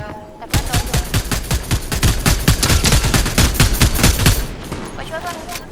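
Rapid automatic gunfire in Fortnite Zero Build squads: a loud, close burst of evenly spaced shots runs for about four seconds, then fades into quieter background rattle.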